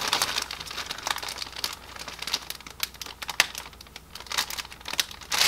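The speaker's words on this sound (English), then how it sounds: "Let's see if I can open this without tearing the bag apart." A small plastic sample bag of skincare products is opened by hand, with close, crisp crinkling and rustling bursts that come in irregular clusters and swell at the end.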